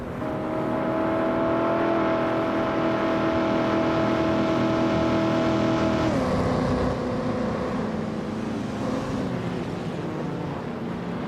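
Race cars on a track in a racing video game, a steady loud engine drone with a shifting whine that drops in pitch partway through, close and continuous, with no one speaking.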